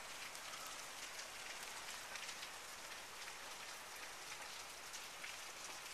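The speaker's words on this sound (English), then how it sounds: "It's just raining constantly now." Steady, dense rain falls without pause during a thunderstorm in Los Angeles, California, a constant even hiss of drops on surfaces, moderately loud and close, with no voices.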